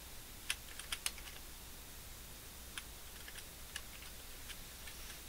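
Keystrokes on a computer keyboard while editing code, a few sharper clicks early then sparse, light taps spread over a quiet hiss, faint and close, no talking.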